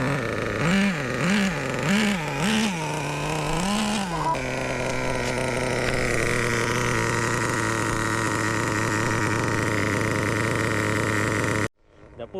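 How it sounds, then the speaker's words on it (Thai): A Traxxas T-Maxx nitro RC truck engine buzzes loudly after starting, revving up and down a few times, then settling into a steady high-pitched idle before cutting out. "เรามาสตาร์ทเครื่องกันครับ ติดแล้ว"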